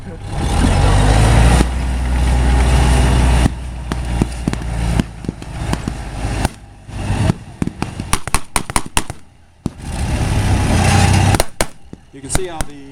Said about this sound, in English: Back there, they're rolling the Stuarts in